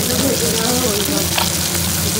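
Cabbage and peas frying in a pan, a steady loud sizzle and crackle that stays close and continuous throughout, with a faint voice in the background.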